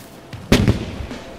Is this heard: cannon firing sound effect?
yes